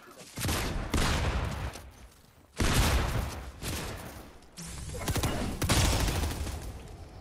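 Loud bursts of rapid gunfire in Fortnite come in several long volleys, nearly continuous, with players talking over them.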